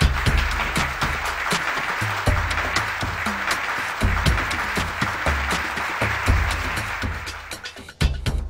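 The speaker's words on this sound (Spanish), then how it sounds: "Limpiamente, el mismo adversario se da por tocado y es aplaudido como el nuevo campeón." A crowd at a fencing match breaks into dense, sustained applause for the new champion, many hands clapping steadily with a loud close wash, under music with a deep repeating bass.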